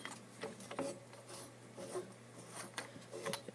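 A coil spring being loosened off a shock body gives faint, irregular scraping and rubbing clicks of metal turning against metal, close by and quiet, with no talking.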